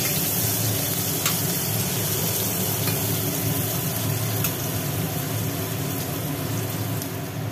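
Pumpkin, potato, bitter gourd and onion fry in hot oil, producing a steady, dense sizzle that holds evenly throughout with no talking.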